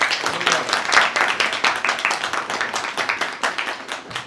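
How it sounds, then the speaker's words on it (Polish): At a literary evening, an audience claps in a room with a quick, even rhythm of distinct hand claps that carries on loudly throughout. "Wielkie brawa!"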